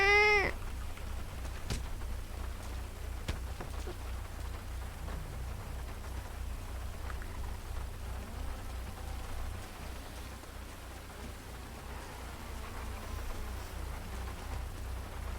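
Steady, even rain falls throughout, a continuous close hiss with a brief cat meow at the very start and no talking.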